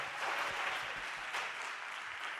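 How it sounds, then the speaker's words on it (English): Steady audience applause fills the room for the band at a business venture event in Madrid, a dense continuous wash of clapping that holds evenly throughout with no voices over it. "So please a big clap for the band."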